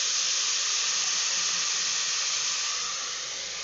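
Onions sautéing in a pan for a mutton gravy, heard as a steady, close, broadband sizzling hiss that stays even throughout and eases off slightly at the end, with no talking.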